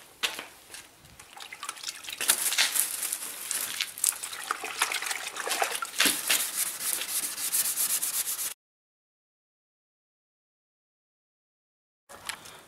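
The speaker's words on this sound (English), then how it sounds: "I'm gonna go ahead with 800 grit sandpaper. So I'm gonna wet sand it straight away" Wet sanding of a car bumper with 800 grit sandpaper, a close, steady rubbing and swishing with watery drips, running for about eight seconds before cutting to silence and then briefly resuming.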